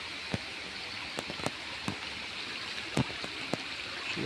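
A small river in the Philippines flows with a soft, steady rushing wash, with a few faint sharp clicks scattered over it and no talking.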